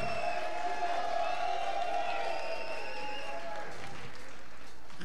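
A crowd of fans at the Miss Supranational Brasil 2022 pageant cheers and applauds in a sustained wash of clapping, with bright sustained tones ringing over the noise before both fade toward the end.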